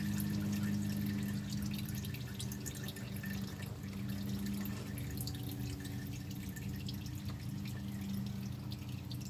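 Fluid drips steadily from the drain of a 4455 part-time transfer case, a soft continuous trickle with faint drops over low background hum, close by and alone.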